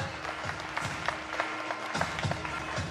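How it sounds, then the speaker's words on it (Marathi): Applause at a student felicitation ceremony held by the Dagdusheth Halwai public trust, a dense patter of many hands clapping at moderate distance, steady for the whole stretch with faint crowd murmur beneath. "जोरदार टाळ्या"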